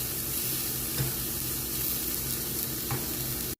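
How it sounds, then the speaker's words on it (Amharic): Peppers and garlic fry in a pan with a steady, close hiss and dense crackle, cut off by a short silent gap just before the end; no voices. "እንደዚህ እንጠብሰዋለን።"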